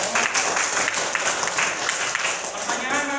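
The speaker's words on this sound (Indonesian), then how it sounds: "Tepuk tangan untuk teman-teman." A class of students gives a round of applause in a classroom, a dense, steady clapping that fills the whole stretch, with voices mixed in underneath.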